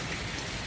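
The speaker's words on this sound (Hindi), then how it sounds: "It's raining like cats and dogs." Heavy rain pouring down on a hill-station outing in Himachal, a dense, steady hiss of downpour filling the short moment with no voices.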